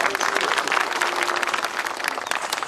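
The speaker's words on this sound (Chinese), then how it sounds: "掌声掌声。" Wedding guests give a dense round of clapping after the bride's father speaks on stage, loud and continuous throughout with faint voices underneath.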